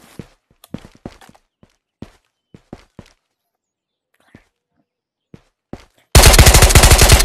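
Gunfire in the VR shooter Ghosts of Tabor: scattered sharp single shots and clicks with quiet gaps, then a sudden loud sustained burst of rapid automatic fire at the end.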